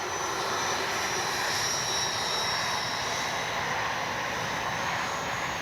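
An FMS 80mm F-86 Skyblazers RC jet with an electronic upgrade flies overhead, a steady loud rushing electric ducted fan whine that holds constant throughout with no talk.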